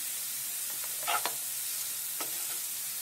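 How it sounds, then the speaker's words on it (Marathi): Ground spices with red chili powder and garam masala get stirred and sautéed in oil in a pan for chana masala, a faint soft sizzle with a few brief scraping stirs, no talk. "चांगले परतवून घेऊया"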